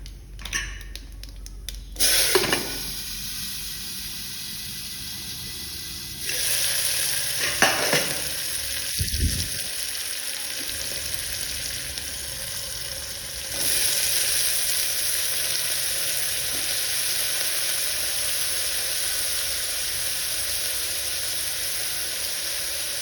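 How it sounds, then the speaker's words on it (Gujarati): Chopped vegetables and cumin hit a hot pan with a loud sizzle that swells in stages, with a burst near the start and occasional scraping clatter, then settle into a steady, close frying hiss. "પછી જે આપણે કટ કર્યું છે શાકભાજી એ નાખી દેવાનું છે."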